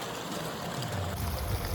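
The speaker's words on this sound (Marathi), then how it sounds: "पाण्याचा आवाज, नेचरचा आवाज, पाणी पण खूप छान आहे." A village waterfall stream in Khandi, Maharashtra, runs in monsoon season, a steady broadband rush of flowing water that swells slightly louder toward the end, heard alone.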